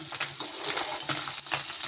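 Fish frying in hot oil, a loud, dense crackling sizzle with rhythmic bursts of spattering that swell and fade throughout, close up and without any talking.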